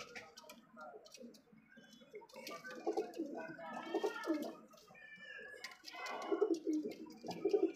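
Painted racing pigeons coo softly in a loft, their low burbling calls repeating in uneven bursts amid bird chatter and light background noise.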